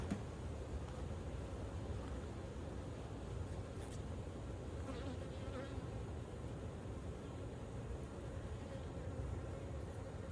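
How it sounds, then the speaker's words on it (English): Dense, steady buzzing of many honey bees with their queen, swarming around an old hive, continuous and close throughout, with no voices. "These bees down here may be a little more mean because they have the queen with them."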